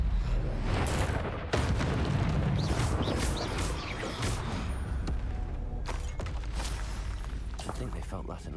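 Spell blasts and booming impacts during combat in Hogwarts Legacy, with a loud burst at the start followed by crackling, rumbling debris and a series of sharp hits, while a voice talks over much of it.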